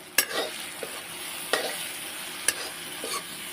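Vegetable curry frying in oil in a kadhai sizzles softly and steadily, broken by four sharp stirring clatters of a spoon against the pan spaced about a second apart.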